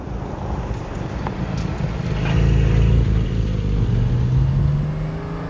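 Porsche 718 Spyder RS engine running steadily while driving, a continuous low drone that swells and rises in pitch midway as the car accelerates, with wind rush over the top and no talking.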